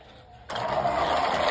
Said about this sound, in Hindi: भगाओ ट्रैक्टर